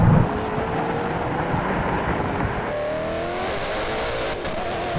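A Koenigsegg and a Tesla Model X Plaid accelerate hard side by side in a rolling drag race from 50 mph in third gear, making a loud, close, sustained roar that rises steadily in pitch, with no voices.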